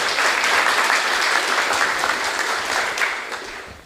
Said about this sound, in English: Let's give a warm applause for